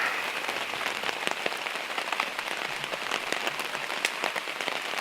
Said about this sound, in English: of course it starts raining right in the home stretch